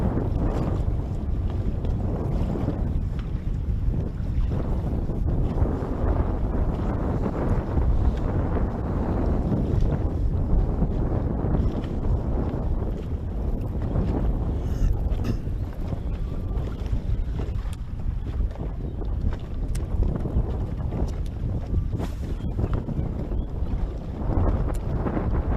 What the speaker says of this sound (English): That wind just whipping out there.